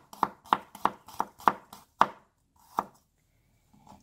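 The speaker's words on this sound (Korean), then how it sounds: "마늘을 다져보겠습니다." Garlic being minced with a knife on a cutting board for a Korean hwangtae and doraji salad: six or seven sharp, evenly spaced chops, close and clear, then a couple of softer taps.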